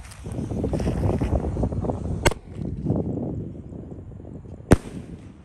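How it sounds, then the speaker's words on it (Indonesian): Two sharp Gatot Kaca firecracker bangs ring out over a rushing, windy outdoor background, the second louder and more distinct, each ending quickly. "Selanjutnya kita nyalakan mercon Gatot Kaca, guys. Sudah menyala."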